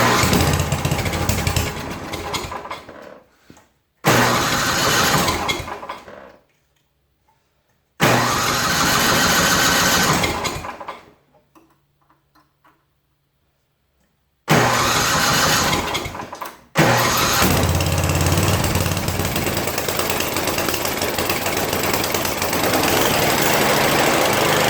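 A snowblower engine, just repaired after an oil leak, is started in several short loud bursts separated by silences, then catches and runs steadily and loudly on its own through the final stretch.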